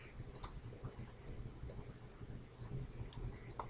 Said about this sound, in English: and press your Enter key